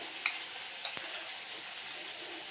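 Ground chili and cumin powder sizzling in hot oil for a Bengali doi potol curry, a soft steady hiss with a few faint crackles and pops, quiet and close, no voices.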